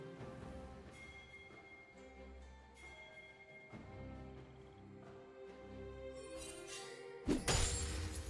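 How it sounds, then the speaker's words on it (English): A turret is destroyed in League of Legends, game music and effects building to a sharp crashing shatter near the end, fairly quiet overall. "Red team's turret has been destroyed."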